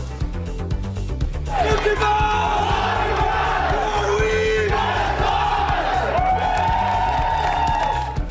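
Best Buy store employees in Dallas cheering and shouting together on Black Friday, a loud sustained group roar with whoops and yells that swells and holds for several seconds.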